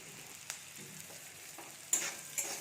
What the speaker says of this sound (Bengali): আর চাউমিনটা তো সিদ্ধ করাই আছে, ঝটপট সেটাকেও ভেজে নেব